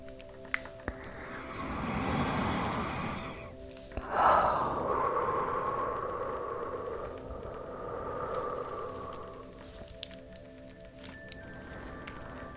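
Slow, gentle breathing in a quiet room, a soft drawn-out inhale followed by a long airy exhale, close and hushed with no talking.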